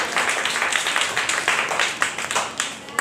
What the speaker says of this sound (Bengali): সবাই একটু হাততালি দেই